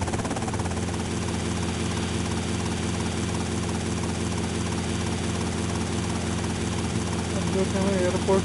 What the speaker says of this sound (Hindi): एयरपोर्ट पे जा रहे हैं तो हेलीकॉप्टर लेके जा रहे हैं।